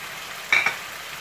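Tomato stirred into chicken frying in a pan, a quiet background sizzle broken by two brief scraping stirs close together in the middle.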